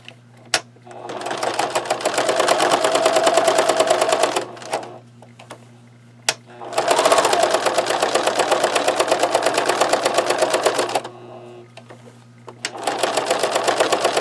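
Sewing machine running in three long bursts over denim notebook cover pieces, each a loud, fast, even mechanical chatter separated by short quiet pauses and clicks.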